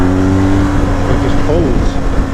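BMW R 1250 GS TE Rallye motorcycle pulling in third gear in road mode, a steady close engine drone with wind noise as it accelerates, someone talking over it.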